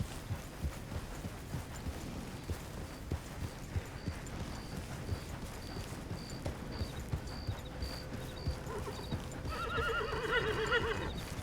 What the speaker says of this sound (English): that was Rusty neighing like that